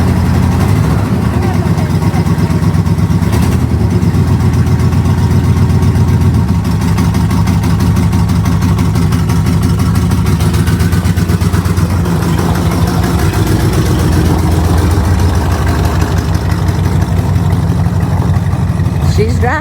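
An old mobile library vehicle's engine idles loudly and steadily after months of sitting unused, a rough continuous rumble that stays constant throughout, with people talking over it now and then.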